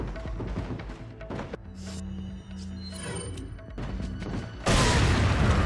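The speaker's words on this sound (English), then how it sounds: "wait for the boom and then run" Grenade explosion in Resident Evil 4, a sudden heavy boom that erupts late and lingers as a loud, broad rumble after several seconds of thuds and game clatter.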